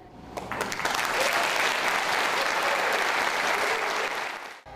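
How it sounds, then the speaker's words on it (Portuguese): An audience at a regional choir gathering bursts into steady, dense applause after a performance, many hands clapping close and loud for several seconds before it cuts off. "O encontro de corais arrancou aplausos da plateia a cada apresentação"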